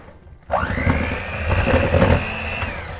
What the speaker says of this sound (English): we're gonna mix it with the mixer